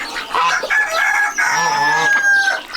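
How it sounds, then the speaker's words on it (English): Birds calling on a farm on a bitterly cold morning, with repeated bright chirps and fowl-like crowing and clucking overlapping close by for nearly three seconds. "Listen to those birds."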